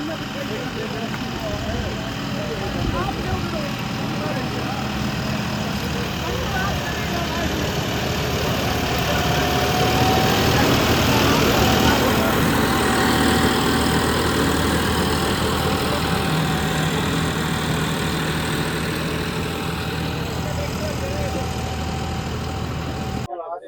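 A John Deere 5310 tractor engine idles steadily at a farm demonstration in a village, a loud continuous diesel rumble with a droning hum, with people talking nearby over it.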